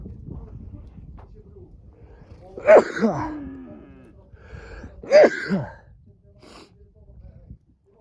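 Cattle low twice in the open air on a summer mountain pasture, each moo drawn-out and fairly close, with a soft outdoor hum and faint rustling between calls.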